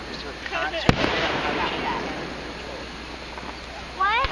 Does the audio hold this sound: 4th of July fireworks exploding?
yes